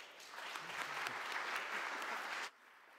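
A conference audience breaks into full, dense applause that holds steady for a couple of seconds, then cuts off abruptly into near silence.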